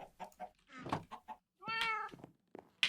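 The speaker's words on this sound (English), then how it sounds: "I quickly need to feed the cat." A pet cat meows repeatedly before a salmon feeding, several distinct meows close by, with a longer drawn-out cry in the middle and a few light knocks between them.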